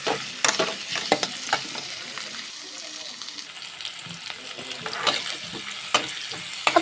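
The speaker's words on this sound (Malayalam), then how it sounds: "ഇഞ്ചി പച്ചമുളക് ഒക്കെ ഒന്ന് വഴറ്റി എടുത്തിട്ടുണ്ട്" Chopped ginger, green chilli and garlic sauté in oil and butter, crackling and sizzling up close, with spatula stirs and sharp clicks against the pan, and no talk.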